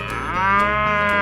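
A cow in a 3D animal video game gives one loud, sustained moo that holds steady for just over a second, heard alone and close up.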